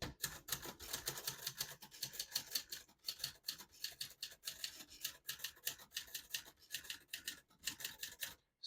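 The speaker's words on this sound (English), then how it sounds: "And I barely have to hit those keys for them to print." Rapid, fairly loud keystrokes on a 1968 Adler Tippa S portable typewriter, a steady run of crisp clacks with brief pauses between bursts and nobody talking.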